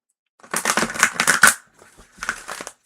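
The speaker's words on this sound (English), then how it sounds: "shuffling." Tarot cards shuffled by hand in two quick bursts of papery riffling and clatter, the first longer and louder, then a brief pause before a softer second burst.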